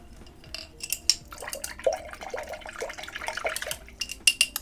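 A paintbrush swishes and clinks in a water jar as it is rinsed after inking, close by, with splashy liquid sloshing and small taps against the container, no voices.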